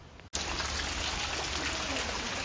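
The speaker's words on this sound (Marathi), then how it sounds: "आता पाऊस पडतोय त्यामुळे एकदम पुढे नाही जाता येणार" Rain falls outdoors beside a large fig tree, starting abruptly as a close, loud, steady hiss that continues unbroken.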